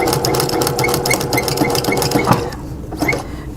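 Close, loud whirr of a sewing machine back stitching at a mark while making a fabric coupon wallet, running continuously with a fast mechanical patter that eases slightly near the end.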